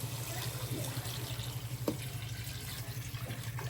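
Water is poured into a pot of potato curry with yogurt, for the potatoes to soften and form a broth. It makes a soft, steady splashing trickle at moderate distance over low kitchen background noise, with no talking.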